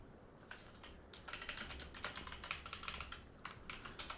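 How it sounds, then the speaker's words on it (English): A web address typed quickly on a computer keyboard, a dense run of close, clicky keystrokes with a brief pause midway, with no speech. "I'll type it quickly"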